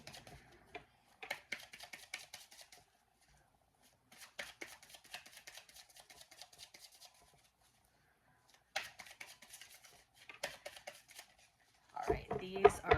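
A tarot deck is shuffled by hand in several separate bursts of crisp, rapid card clicks with pauses between them, ending in a louder, denser flurry.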